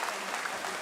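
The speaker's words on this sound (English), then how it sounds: "Let's give her a massive round of applause." A brief burst of steady crowd applause at a British Down Syndrome swimming championship, celebrating a swimmer's new British record, heard at a moderate distance.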